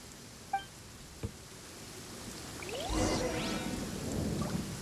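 In Genshin Impact, steady soft rain hisses while a low thunder rumble swells in the middle and lingers, with a couple of brief faint taps before it.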